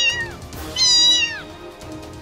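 A kitten meows twice in clear, high, rising-and-falling calls, close and distinct, with a faint third mew just after, in a Paw Patrol toy play scene.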